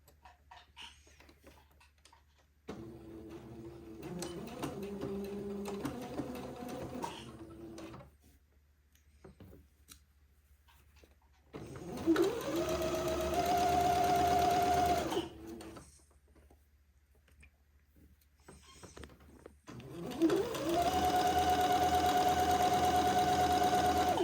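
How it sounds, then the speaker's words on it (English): A domestic sewing machine stitching a placket onto a garment's back opening, running in several bursts of steady whirring and rapid needle clatter, with quiet pauses between the runs and no talking. "I will sew this placket to the back opening, and I'll take my pins out as I come to them"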